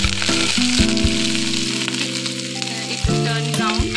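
Chopped onion sizzles and crackles loudly in hot oil for a curry, with a steady frying hiss and clinks of stirring throughout; no voices.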